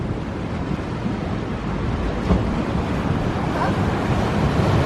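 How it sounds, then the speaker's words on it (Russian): Ocean surf rolls onto a California beach in a steady, loud wash with wind buffeting the microphone, the sound continuous and broadband with no talk over it. "Сейчас, когда пойдет волна, давай на счет 3."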